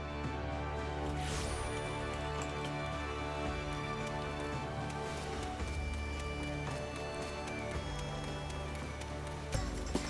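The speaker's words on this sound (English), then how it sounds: "It is a shame it's raining" Steady rain falls in Limsa Lominsa in Final Fantasy XIV, a continuous hiss layered over game ambience and tonal hums, with a brief louder knock near the end.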